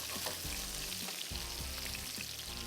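Garlic frying in oil for a fish pulao, a steady, dense sizzle that holds at an even level throughout with no talking.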